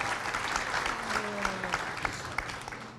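A morning community audience applauds steadily, a dense wash of many hands clapping at moderate distance, fairly even throughout with a few sharper claps near the end and faint voices underneath.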